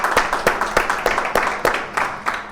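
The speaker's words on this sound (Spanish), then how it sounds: "me gustaría que los antiguos pues le diéramos un aplauso" Audience applause in a classroom setting, a steady patter of many hands clapping with sharp individual claps standing out, filling the short stretch without any talk.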